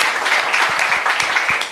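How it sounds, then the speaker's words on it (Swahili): A crowd applauds at the Kitui Green Run awarding ceremony, a sustained, moderately loud patter of many hands with a few sharper individual claps and faint low thumps mixed into the wash. "Mpigieni makofi tafadhali."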